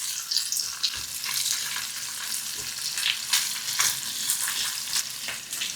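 Onion and bell pepper fry in a pan while being stirred, a steady loud sizzle broken by scraping stirs and occasional utensil knocks, with no talking.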